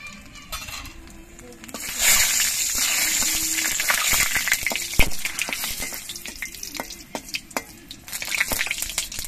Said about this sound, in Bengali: এবার এই তেলের মধ্যে দিচ্ছি 2টো শুকনো লঙ্কা আর অল্প করে একটু কালো জিরে